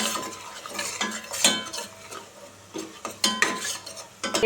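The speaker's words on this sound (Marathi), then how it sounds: "लाल मिरची पावडर घालते मालवणी मसाला चांगले परतून घेऊया" Red chili powder and Malvani masala being sautéed in a pan for chicken masala, with irregular scraping and clinking strokes of a spoon over a faint sizzle, close and moderately loud with no talk.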